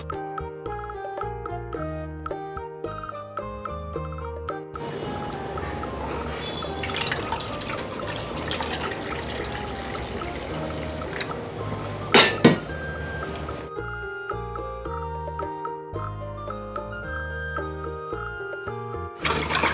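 Buttermilk for mattha, a Maharashtrian spiced buttermilk with salt and optional sugar, is whisked in a vessel, giving a wet, continuous sloshing churn with a couple of sharp clinks near the end, heard between stretches of background music.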